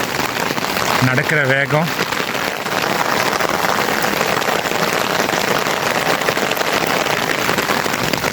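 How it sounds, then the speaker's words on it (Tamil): Heavy rain pours steadily around a walker on the mountain trek from Kodaikanal to Thandikudi, a dense, constant hiss close by, with a brief spoken phrase near the start. "செம்ம மழை."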